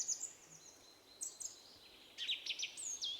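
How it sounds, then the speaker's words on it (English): Small birds chirp and twitter in short, high bursts, faint and somewhat distant, with quiet pauses between the calls and no talking. "Listen to those birds sing."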